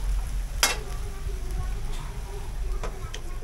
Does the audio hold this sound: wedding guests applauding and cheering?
no